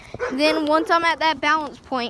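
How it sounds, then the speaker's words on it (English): Dogs yip and whine in the background while someone talks steadily over them, giving wheelie riding tips; the high, wavering canine cries break through in several short bursts. "Sorry for the dogs in the background."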